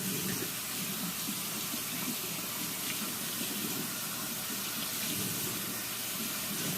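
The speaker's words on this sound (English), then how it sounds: "So I'm going to finish rinsing this off" Tap water runs steadily as a coconut is rinsed under the faucet in a kitchen sink, a continuous close splashing hiss with no pauses and no talk.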